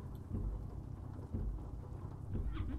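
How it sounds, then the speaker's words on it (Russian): Steady rain hiss from the weather effect in Euro Truck Simulator 2, heard while driving a modded Hennessey VelociRaptor 6x6 truck, with low rumbling swells like distant thunder beneath an even, continuous wash. "Это у нас дождь."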